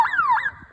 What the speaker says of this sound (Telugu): అలాంటివి ఏమైనా పడితే మన సైరన్ మోగుతుంది.